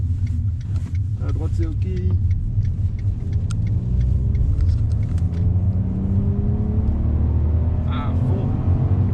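Car accelerating up a motorway on-ramp, heard from inside the cabin: a steady loud engine rumble and road noise that builds and holds, with a brief spoken remark early on.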